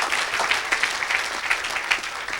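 A crowd at a Christian worship gathering applauds Jesus, steady continuous clapping with no break.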